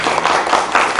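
Audience applause at a Korean literature concert honoring a young poet, a dense, steady wash of many hands clapping close by for about a second without a break.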